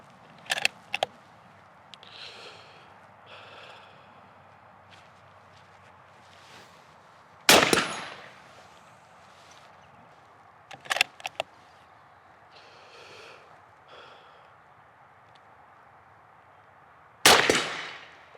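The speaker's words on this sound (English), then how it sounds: "Both shots were where they need to be there, David" Rifle shots during deer-stalking practice: two sharp, loud cracks about ten seconds apart, with quieter clicks and handling noises of the rifle between them.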